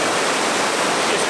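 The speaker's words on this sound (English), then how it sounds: "the amount of water that's just coming down" Waterfall in Lydford Gorge, a wooded river gorge swollen by heavy rain, roars in a loud, steady, close rush of falling water with no voices.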